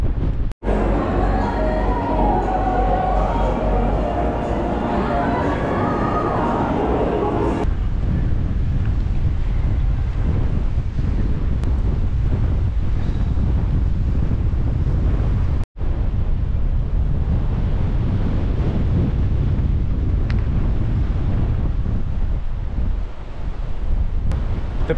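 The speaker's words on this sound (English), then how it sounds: "The wind is howling down here." Strong wind roars and buffets the microphone continuously on a pier on the Essex coast, with a rush of waves underneath; no one speaks.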